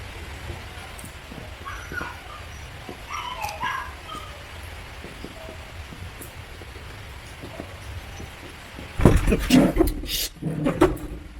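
Dogs yip and whimper softly in the background in Kampot, Cambodia, then a louder burst of barking and scuffling near the end as a dog jumps on someone.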